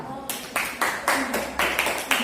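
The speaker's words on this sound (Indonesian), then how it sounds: "Baik, beri tepuk tangan untuk temannya." Students in a classroom clap for a classmate, a quick, even beat of about nine sharp claps that seem to come in near unison, moderately close and without talk.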